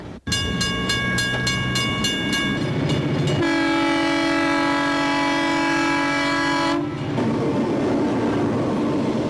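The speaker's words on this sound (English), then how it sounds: "Every time the train does go by" A train rumbles past close by, loud and continuous, its horn blaring in long sustained tones over the steady roar of the cars.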